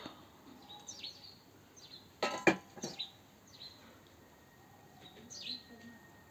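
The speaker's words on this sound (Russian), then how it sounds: "Птицы поют, теплынь." Birds sing outdoors on a warm day, faint scattered chirps and short calls at a distance, with a few louder clattering knocks partway through.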